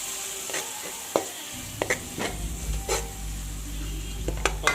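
Tomatoes and masala for a mushroom masala sizzle steadily in a pan while a spoon stirs, giving scattered clinks and scrapes, with a low stove hum joining partway through.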